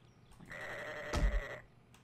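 A cow in the survival game 7 Days to Die gives one drawn-out, nasal bleat-like call lasting about a second, mid-loud and close, with a brief thump of impact partway through and no talk over it.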